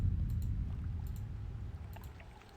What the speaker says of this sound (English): I can hear water running.